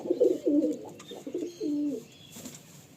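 A pigeon coos several times in low, throaty phrases, close by and fairly soft, with brief pauses between the calls.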